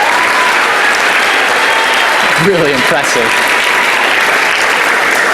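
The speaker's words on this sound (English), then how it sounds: "so let's give her a round of applause" A convention audience at the 2019 South Carolina FFA state convention applauds for Jillian with steady, dense clapping throughout, and a voice briefly speaks over it partway through.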